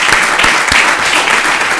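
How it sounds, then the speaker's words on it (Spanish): Audience applause fills a round-table seminar on Spanish construction projects abroad, a steady dense clapping wash held loud and even throughout, with no talk over it. "yo creo que se me merece un fuerte aplauso."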